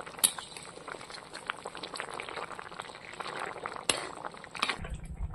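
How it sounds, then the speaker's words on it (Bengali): A pot of fish curry with cumin paste, made with Kan Magur catfish and taro, bubbles and simmers steadily on the stove, with an occasional clink of a utensil against the pot. "জিরে বাটা দিয়েছি, এবার একটু কিছুক্ষণ ফুটিয়ে নেবো।"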